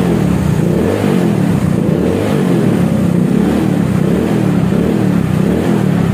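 An automatic scooter fitted with an SKR racing exhaust revs loudly and close, its engine note rising and falling in repeated throttle blips with a deep, rumbling drone throughout.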